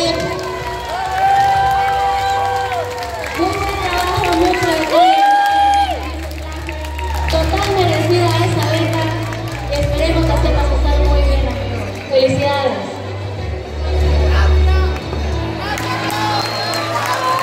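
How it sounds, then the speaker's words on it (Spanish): A cosplay awards crowd cheers, whoops and applauds the winner. Loud, continuous crowd noise with shouting voices and thumping bass music underneath. "¡Fuerte este aplauso para este campeón!"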